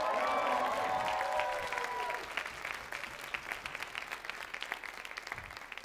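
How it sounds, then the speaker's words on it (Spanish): A comedy show audience breaks into applause after a sustained tone fades in the first two seconds, then scattered, lively clapping with some cheering continues, moderately distant and fairly quiet. "¡Fuertes aplausos por su originalidad!"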